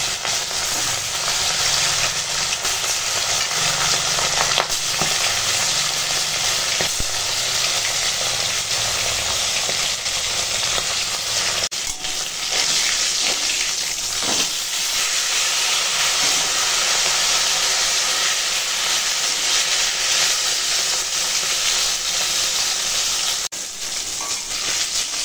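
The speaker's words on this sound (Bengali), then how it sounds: "আর মাছ ভেজে নেব।" Fish frying in hot oil for a Bengali fish curry, giving a steady loud sizzle and hiss that runs continuously for the whole stretch, close by, with no talk.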